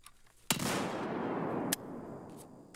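A sawed-off shotgun fires a double blast in the Escape from Tarkov video game, a sharp loud report followed by a lingering rumble, then another crack about a second later and faint distant shots.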